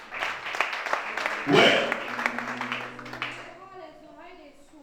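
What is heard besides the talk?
church congregation applauding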